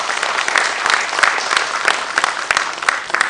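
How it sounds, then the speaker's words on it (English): An audience at an international coatings and ink industry conference applauds a speaker, a moderately loud wash of many hands clapping with sharp individual claps poking out, continuous throughout. "Let us hear a round of applause for Mr."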